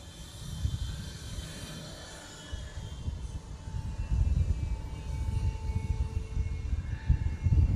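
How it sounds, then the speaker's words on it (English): A Bombardier Challenger 350 business jet heading off to Santa Ana gives a low, steady rumble that swells slightly over several seconds, distant and moderately loud, with no talk over it. "That's a Bombardier Challenger 350."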